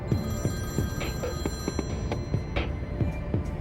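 A telephone rings insistently, a rapid trilling bell repeating without pause, fairly loud and close, with no voices over it.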